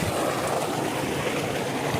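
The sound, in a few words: 10 horsepower electric motor tubewell pumping water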